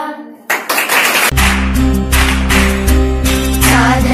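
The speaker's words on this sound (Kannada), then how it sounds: "ಸಾಧನೆ ತೋರಿದ ನಿಮಗೆಲ್ಲ ಸಾವಿರ ಸಾವಿರ ಚಪ್ಪಾಳೆ, ನಾಡಿನ ಕೀರ್ತಿಯ ಬೆಳಗಿಸಿದ ನಿಮಗಿದು ಹೆಮ್ಮೆಯ ಚಪ್ಪಾಳೆ" Dense applause from a crowd at a school farewell ceremony for graduating 10th-standard students, a steady loud wash of clapping that continues while music with a sustained tonal backing comes in.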